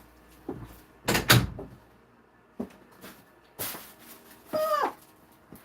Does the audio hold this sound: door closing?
yes